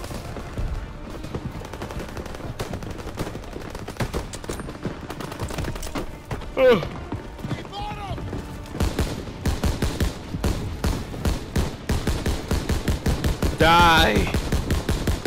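Rapid machine gun bursts rattle loudly in a Call of Duty WWII campaign mission, building into dense, nearly continuous fire toward the end while someone talks over the shooting.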